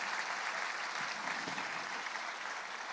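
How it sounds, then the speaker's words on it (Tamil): Steady, dense applause from an audience at a Tamil event honouring the young chess champion Gukesh, broad and continuous without a break for about three seconds. "நாம் அனைவரும் நம்மளுடைய கைத்தட்டல் மூலமாக அவர்களுக்கு நன்றியை சொல்வோம்"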